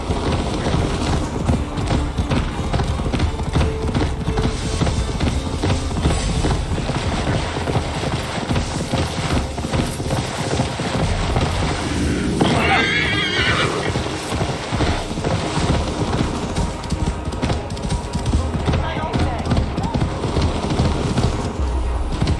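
Horses gallop at full speed in Assassin's Creed Valhalla, with loud continuous hoofbeats, rumbling movement and a distinct neigh midway through, all close and steady.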